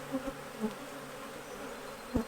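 Honey bees buzz around an opened hive during an inspection, a faint, steady drone with a few brief louder passes as individual bees fly close.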